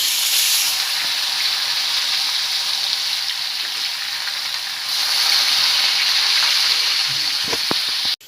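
Fish frying in a pan, a steady loud sizzle of hot oil that swells partway through as the fish is turned, with a few faint clinks near the end.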